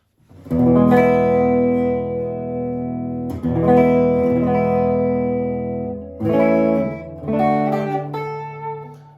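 Electric guitar, an Eart E-335, on the neck pickup, warm sustained chords and notes ringing out with light amp reverb, played in several phrases with brief pauses.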